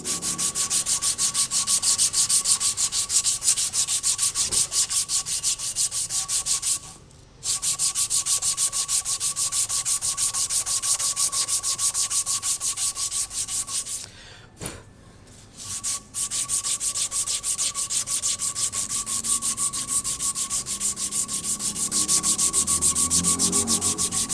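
Rough sandpaper rubs steadily against a knife blade in fast, continuous close strokes, loud and unbroken apart from two brief pauses.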